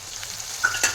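Tomatoes drop into a hot pan already holding onion, a small green chili and a piece of ginger for a Mysore dosa filling. A steady soft sizzle is broken by two brief splattering bursts near the end, with no talking.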